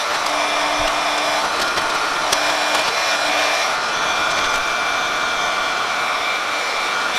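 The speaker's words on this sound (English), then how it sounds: "So I'm getting a heat gun and we're gonna go ahead and shrink wrap this." A heat gun blows hot air to shrink-wrap a sublimation mug, giving a steady, loud airy whoosh with a constant hum. A few faint clicks and taps sound close by.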